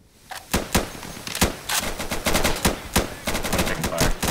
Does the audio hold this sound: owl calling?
no